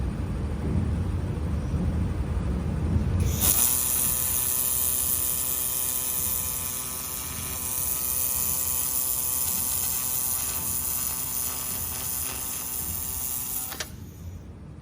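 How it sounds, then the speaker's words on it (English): A 2 kW fiber laser welding machine runs steadily on 12 mm mild carbon steel with filler wire, giving a loud, continuous buzzing hum that starts abruptly after a few seconds of background noise and stops sharply near the end. "Right now we can weld the edge of the 12 millimeters carbon steel."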